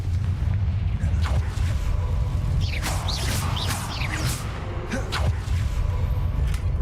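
Bombarda and Confringo spell explosions in Hogwarts Legacy, heavy booming blasts with crackling bursts midway over a dense, rumbling background, loud and close.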